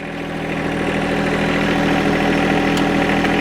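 A John Deere 2025R compact tractor idles close to the microphone with a loud, steady, even engine drone and no other sounds.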